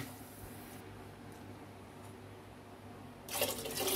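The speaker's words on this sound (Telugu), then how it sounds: "2 గ్లాస్ వాటర్ వేసుకున్నాను." Two glasses of water poured into a pot of tomato dal, a faint hum at first, then a brief louder gush of pouring water near the end.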